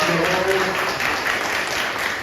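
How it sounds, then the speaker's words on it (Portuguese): Audience applause at a convention panel held by a comics publisher at a fan expo, a steady dense clapping that fills the room throughout, with a few voices faintly mixed in. "Uma salva de palmas para o Ed, pro Michel."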